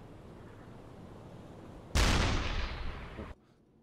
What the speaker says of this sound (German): Bisschen auf blind schießen.